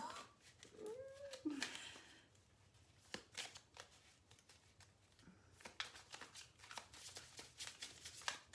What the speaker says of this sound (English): I'll give it another shuffle, get that energy in there.